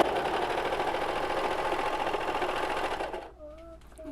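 A serger or sewing machine runs steadily and loudly while sewing the seams of a homemade face mask, a dense continuous whir for about three seconds before stopping abruptly, followed by a faint tonal sound.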